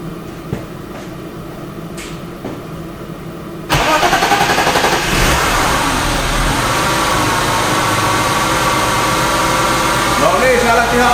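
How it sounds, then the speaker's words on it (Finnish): A BMW M52 engine, run by a Speeduino ECU and already warm, cranks and catches at once, then settles into a loud, steady idle that holds to the end after a few seconds of quiet room noise. "Nyt voidaan päräyttää käyntiin se taas sieltä."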